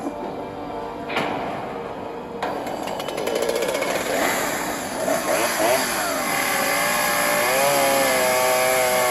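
Chainsaw in the movie Sharknado roaring steadily and loud, rising and holding its buzz over movie sound effects and music, with no voices over it.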